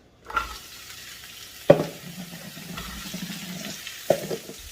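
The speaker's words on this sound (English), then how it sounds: "Okay, now we're going to saute our vegetables." Bell peppers and a medium onion sautéing in olive oil in a pan for Texas fajitas, a low steady sizzle with sharp clacks of a spoon or spatula stirring and scraping, close and moderately loud, no talking.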